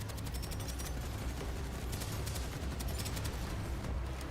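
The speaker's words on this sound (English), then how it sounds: "There's somebody shooting me in the butt." Rapid gunfire aimed at the player in the video game Deadzone: Rogue, a steady dense rattle of shots running throughout over a continuous noisy game soundscape, with no talk.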